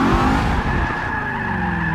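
A supercharged Ford Mustang GT350R in Forza 6 drifts through a corner, its tires squealing loudly and continuously over a droning engine, with no talk.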